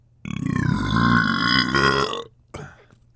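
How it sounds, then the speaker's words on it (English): A single loud, drawn-out belch right up against the microphone, rumbling for about two seconds before a short second burp follows. "I don't like things near my ear, especially fucking belches."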